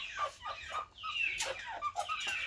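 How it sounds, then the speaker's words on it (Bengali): Village chickens in a large coop give a run of short clucks and squawks, several overlapping calls close by at a fairly low level, with no talking. "এই যে আমাদের মুরগি"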